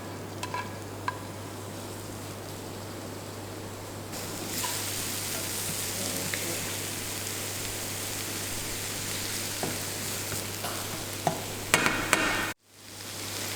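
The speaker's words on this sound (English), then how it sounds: "I'm going to add my mushrooms to my oil" Mushrooms frying in hot oil in a pan over medium heat, giving a steady close hiss and sizzle with a few pops that runs for most of the stretch and then cuts off abruptly near the end; nobody speaks.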